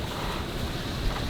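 Wind and waves at sea from aboard a sailing boat in a breeze of about 6-8 m/s, a steady broadband rush with low water sloshing throughout, no talk.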